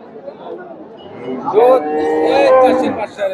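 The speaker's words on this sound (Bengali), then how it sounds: "শাহিওয়ালের ক্রস আছে গাভীটা" A Sahiwal cross Friesian dairy cow at a cattle market lets out one long, loud, close moo in the middle, over a background of crowd chatter and people talking.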